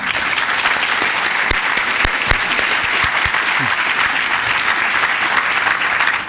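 A studio audience claps loudly and continuously at an interview with writer-director Shane Meadows about This Is England, dense applause at full level with a few sharper claps and thuds standing out.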